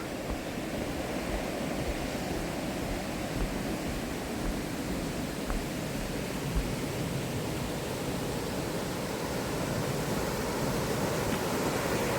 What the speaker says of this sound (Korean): 계곡 물소리가 좀 제법 크고 시원하게 보입니다